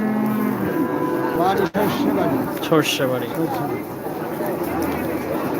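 A cow lows at a winter cattle market in Taherpur, Rajshahi, faint and mostly beneath someone talking up close, with background chatter from the crowd.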